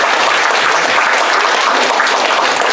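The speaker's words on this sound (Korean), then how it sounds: "우리 모든 엄마들과 전업주부를 위해서 우리 한번 격려의 박수를 드립니다" A church congregation gives a loud, dense burst of sustained applause in encouragement of mothers and homemakers, the clapping close and continuous with no talk over it.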